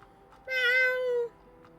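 A cat in the Hogwarts Legacy video game gives one clear, drawn-out meow lasting under a second, near and distinct over quiet background, with no talking.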